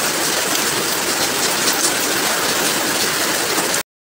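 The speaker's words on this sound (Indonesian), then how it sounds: "hujan pun turun deras." Heavy rain pours down after strong winds strike a resort in Dago, Bandung, a loud, dense, unbroken hiss of falling water that continues evenly and then cuts off abruptly.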